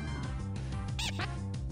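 A duck in the Pokémon Iberia PC game gives a short electronic quack over a continuous, dense background of game music.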